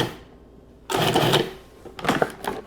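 A food processor pulsing a no-bake protein energy bite mixture, giving two short bursts of whirring, rattling blade noise separated by a brief pause, close and moderately loud.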